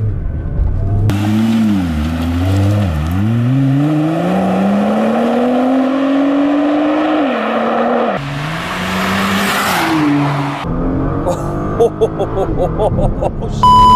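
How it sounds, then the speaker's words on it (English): A Nissan GT-R sports car accelerates hard along a straightaway, its engine note climbing through rising revs with gear changes, loud and close from inside the car, ending in rattles and bumps. "I'll give a little bit of gas to this. Let's see what it can do."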